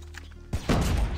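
A gun firing through a wall in a video game: a brief thump, then a loud, sharp blast that rings on for a moment, heard up close and alone.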